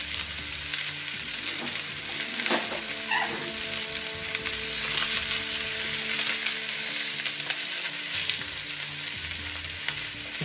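Mushrooms sautéing for garlic mushroom red wine steak sauce: a steady, fairly loud frying sizzle fills the whole stretch, with occasional scrapes and stirring clatter from the pan.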